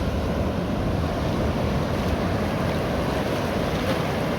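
Steady roar of high surf and wind with no breaks, loud and close, waves rolling in continuously on Las Canteras beach, Las Palmas, Gran Canaria.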